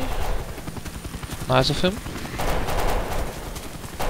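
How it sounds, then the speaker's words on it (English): Gunfire from an allied soldier clearing a helicopter landing zone in the Delta Force: Xtreme 2 shooter game, a steady crackle of shots running under a brief spoken remark, with helicopter rotor noise in the background. "Why is he shooting? Oh, he's clearing the landing zone for me."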